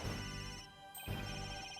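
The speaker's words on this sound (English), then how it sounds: "Where's that ringing coming from?" A cell phone rings in the Ace Attorney Dual Destinies video game: a bright, looping electronic ringtone melody, loud and continuous with a brief dip partway through, no voices.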